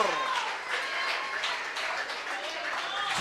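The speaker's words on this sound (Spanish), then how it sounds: "Alguien tiene que darle un aplauso a Cristo." A church congregation breaks into sustained applause during a sermon, an even wash of clapping with crowd voices underneath.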